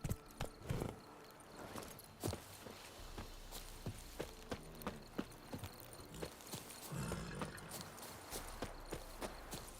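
A horse in The Witcher 3 clip-clops along at a steady trot, hooves striking in a regular rhythm beneath low ambient game sound, moderately loud and close, with no speech.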